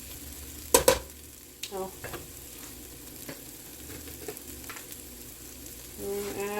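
Mushrooms, onions and carrots frying in a pan, with a soft steady sizzle and several scraping stirs of a utensil against the pan, plus one loud clatter near the start; a brief exclamation is heard.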